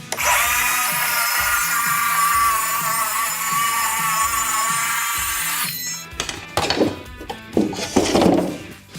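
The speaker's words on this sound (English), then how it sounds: "I'm just using a circular saw." A circular saw cuts plywood on the floor, with the sheet raised on small packing pieces. A loud, steady, close-up whine runs for several seconds, then stops and gives way to a few knocks and thumps of handling wood.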